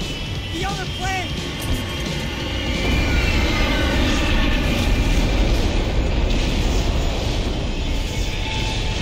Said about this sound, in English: The other plane.